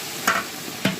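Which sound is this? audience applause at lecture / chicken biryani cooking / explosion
chicken biryani cooking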